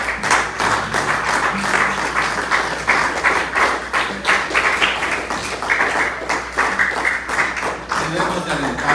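A church congregation claps for the Lord during a Sunday worship service, steady broadband applause with sharp hand taps running the whole time, fairly close and loud, with voices mixed in underneath.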